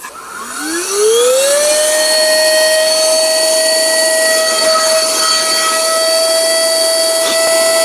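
An electric air pump inflating a Naturehike sleeping mat starts up, rises in pitch over the first second, then holds a loud, steady whine throughout.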